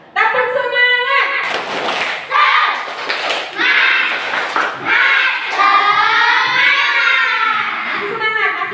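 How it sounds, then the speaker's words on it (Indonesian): A classroom of students performs a rhythmic spirit clap, sharp clap bursts mixed with loud chanting and shouting voices in a lively, echoing room. "Tepuk semangat."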